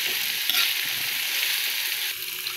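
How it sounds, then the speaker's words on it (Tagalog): Sweet potato frying in a pan for a Filipino fresh spring roll filling, producing a loud, even, close-up sizzle with slight stirring movement throughout. "Kaya mong medyo maprito yung kamote."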